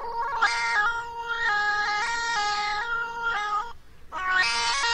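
A cat's meows run through autotune, giving a warbling, pitch-snapped electronic tone; a long drawn-out meow followed by a brief pause and another, close and clear with no talking.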